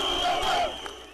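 Huge crowd in Istanbul rallying around journalists of the Turkish opposition daily Zaman, a loud roar of chanting voices that eases off toward the end.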